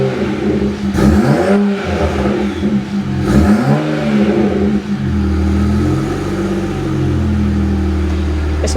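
A BMW E92 335i with the N54 engine, running with one muffler removed and some loose exhaust clamps, revs in two sharp blips that rise and fall, then settles into a steady, gruff idle drone.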